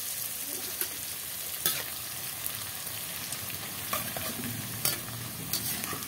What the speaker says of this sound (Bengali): এটা হচ্ছে চালের ভাতের পাঁপড়, তাই পাঁপড়টাকে এখন আমি ভেজে নেব